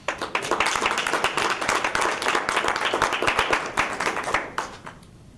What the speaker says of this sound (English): Please join me in a round of applause and thanks for one of the best school boards